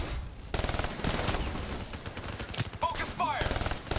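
Dense, continuous gunfire in Call of Duty: Black Ops III, heard as rapid automatic bursts throughout, with some electronic whines mixed in.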